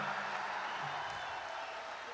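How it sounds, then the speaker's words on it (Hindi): A crowd at a Hindi comic poetry gathering applauds in a continuous, even roar of clapping that sounds somewhat distant and soft, with no talk over it. "तालियां जोरदार बजाओ एक बार"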